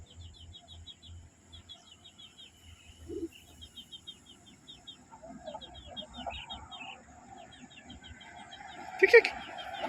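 Chickens and chicks on a hillside farm, with faint repeated cheeping and soft clucks over a background of crickets and insects, plus a brief louder squawk near the end.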